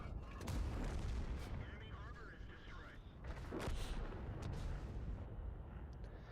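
Tank cannon shots in the online tank battle game World of Tanks: a few heavy booming blasts with rumbling echoes over continuous battle noise.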